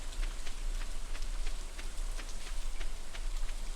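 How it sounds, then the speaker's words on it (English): Rain falls steadily in Stardew Valley, a dense patter of drops on surfaces with a low constant rumble beneath, even and unbroken for the whole stretch without talk. "It's rainy."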